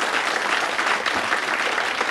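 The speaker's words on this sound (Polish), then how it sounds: "Brawa pani." Audience applause at a benefit gala honoring a dance ensemble director, steady dense clapping filling the whole moment, loud and continuous without talk.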